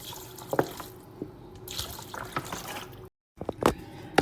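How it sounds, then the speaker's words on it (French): Water poured from a glass into a cooking pan holding rice, spices and chicken, giving a splashing, dripping pour with a few brief spurts and a short silent gap near the end. "Et ensuite, vous mettez l'équivalent d'un verre d'eau."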